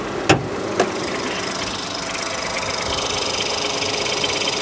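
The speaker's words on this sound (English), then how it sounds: "do I hear a rattle? Or is that the direct injection? I think that's direct injection." A RAM 2500 engine idles steadily nearby with a fast, even direct-injection ticking running through it, and two sharp knocks come early.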